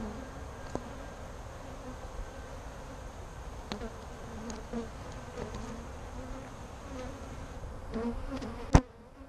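A dense, steady buzz of many Saskatraz honey bees hums continuously up close around the hive, with a few sharper clicks and a louder knock near the end.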